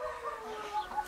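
Light Brahma chickens cluck softly nearby, a few short scattered clucks over quiet background.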